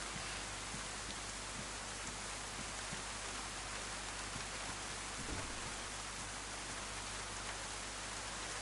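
Steady rain pours down in the Highlands of the video game DayZ, a dense, unbroken hiss of falling water at even volume throughout, with no voices or other events.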